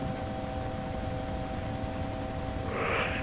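Helicopter in flight in the video game DayZ Origins, a steady droning engine and rotor hum with constant tonal lines, holding level throughout with a slight swell of brighter noise near the end.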